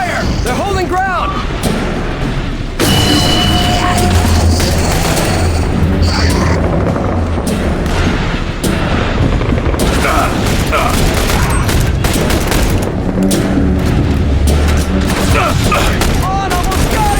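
Dense gunfire and booming explosions fill a battle in The Bureau: XCOM Declassified, running loud and continuous with voices shouting over the combat.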